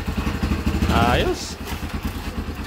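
A Kawasaki Barako 2 motorcycle, an overhauled bike, fires up from a kick-start and settles into a steady, thumping single-cylinder idle close by, with a person speaking briefly over the engine.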